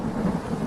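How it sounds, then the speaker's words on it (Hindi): Steady heavy rain with a deep rolling rumble of thunder through a brief, loud stretch of thunderstorm. "बारिश हो रही है।"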